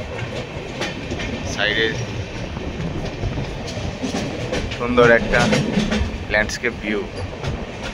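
The Samaleswari Express, running from Howrah toward Jagdalpur, rumbles along the rails with a steady, rhythmic clatter heard from on board, while a person talks over it.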